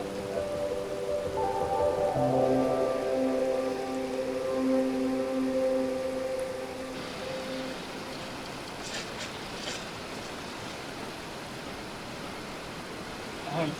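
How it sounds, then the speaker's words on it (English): Rain pours down on an outdoor film set, a constant close hiss, with sustained droning tones over the first half before the shower continues alone. "First tryout shooting in the rain with the whole gear."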